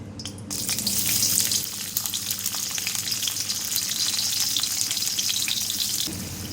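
Pieces of onion fry in hot oil in a pan for an aloo do pyaza curry, a loud, steady, close sizzle that holds for about six seconds with no talking.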